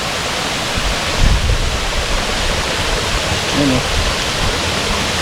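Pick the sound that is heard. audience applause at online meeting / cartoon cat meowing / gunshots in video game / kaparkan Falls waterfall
kaparkan Falls waterfall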